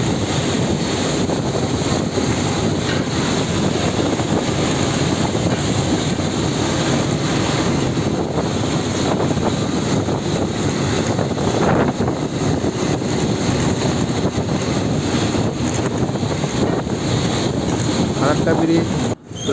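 Water surges through the open gates of the Farakka barrage in a constant broad roar. Heavy wind buffets the microphone for the whole stretch, and a faint voice is briefly audible underneath.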